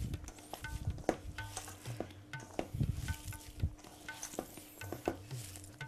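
Vegetables are stirred in a pan with a utensil, giving faint, irregular scraping and clinking strokes over a soft sizzle, close by and with no talking.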